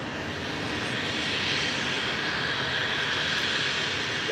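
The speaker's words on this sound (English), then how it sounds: "NetJet 661 Cessna Citation XLS coming in from San Jose, California" A NetJets Cessna Citation XLS business jet touching down on runway 24 left at LAX, arriving from San Jose, gives a steady, fairly loud roar that holds evenly throughout, with no talk over it.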